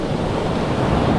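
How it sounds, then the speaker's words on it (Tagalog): Ocean waves crash on a shore: a loud, dense roar of surf mixed with wind buffeting the microphone, continuous through a short burst, with no voices. "Masigla tong alon na to eh"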